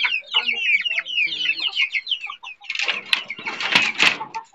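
Native chickens cluck and chatter close by in a farmyard, with a run of rapid clucks followed by louder, harsher squawking bursts, and no talking.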